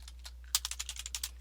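Fingers type on a computer keyboard in a quick, uneven run of sharp clicks, close and fairly quiet, over a faint low hum.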